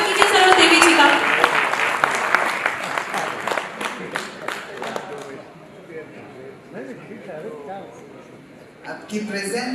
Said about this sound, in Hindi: जोरदार तालियों से स्वागत कीजिए सरोज देवी जी का।